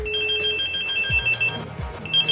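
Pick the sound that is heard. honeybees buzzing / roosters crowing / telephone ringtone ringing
telephone ringtone ringing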